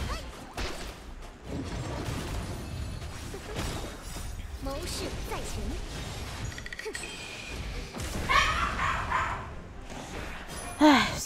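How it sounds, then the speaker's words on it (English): A dog barks and yips repeatedly in bursts over a long stretch, mixed under a person talking and game sounds, moderately loud with a sharper burst near the end. "my dog is going to bark for quite some time"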